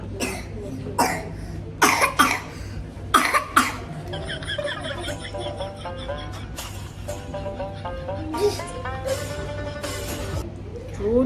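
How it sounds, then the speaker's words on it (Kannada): A child coughs in several sharp bursts, close and loud, with breathy pauses between and a low hum in the background. "ಕೆಮ್ಮು ಕೆಮ್ಮು ಅಂದ್ರೆ ನಿಲ್ತಾನೆ ಅಲ್ಲ"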